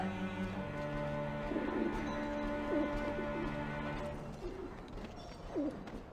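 Birds coo in a caged coop in the video game Alice Madness Returns, several soft throaty coos repeating over a steady low musical drone, moderately close and gentle.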